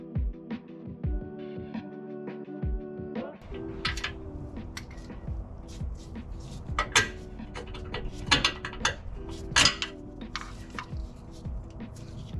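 Ratchet loosening a 15mm bolt under the oil pan of a 2004-2008 Ford F150 5.4L 3V, rapid clicking pawl strokes in uneven bursts, close up, mixed with metallic clanks and tool handling, no talk.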